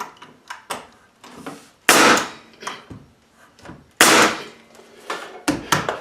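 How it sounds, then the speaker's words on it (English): Hammer driving nails into a wooden bracing board on a workbench with angled supports: a series of sharp, close wooden knocks in uneven bursts, with some louder heavy strikes between lighter taps. "Nail it down. And then I can nail this to this"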